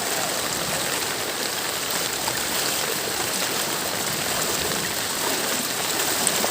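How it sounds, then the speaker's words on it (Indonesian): Fast-flowing floodwater rushes along Jalan Sumatera in Aceh Besar, a loud, unbroken roaring wash close by with no speech. "Ini airnya sangat deras mengalir"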